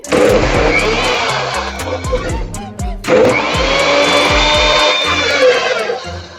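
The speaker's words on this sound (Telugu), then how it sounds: "సో, మనం మిక్సీ చేసుకోవాలి జ్యూసర్‌లో" A mixer grinder blends wheatgrass with water in a juicer jar: a loud, close motor whir with a rising and falling pitch, running in two bursts separated by a short pause near the middle.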